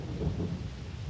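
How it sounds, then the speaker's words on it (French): A violent thunderstorm, with low rumbling thunder rolling over steady heavy rain, sustained and fairly loud throughout with no voices. "chassé par un violent orage"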